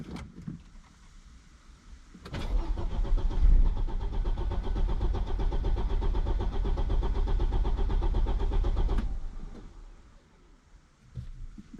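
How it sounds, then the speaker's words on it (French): Audi five-cylinder engine with 208,000 km cranking with its injectors unplugged, a loud, even, rhythmic starter churn lasting about seven seconds that never catches, with a quieter lead-in and tail and no talk. "J'ai débranché les injecteurs donc là ça peut pas démarrer."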